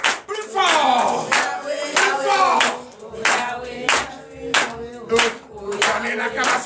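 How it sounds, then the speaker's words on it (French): During a Sunday church service in Benin, a congregation claps in a strong, rhythmic beat. Loud voices shout and chant in praise over the regular hand claps. "Donnez l'acclamation au Seigneur Jésus."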